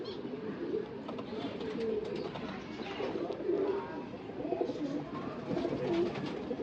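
Pigeons coo softly and repeatedly in low murmuring calls, several birds overlapping at moderate distance against a steady rustling background, with no talk.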